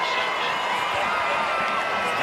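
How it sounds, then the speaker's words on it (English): Crowd noise in a college football stadium during Kentucky versus Missouri, a steady broad wash of clapping and cheering that stays loud and even throughout, with no clear individual voices standing out. "That's a lot of clapping"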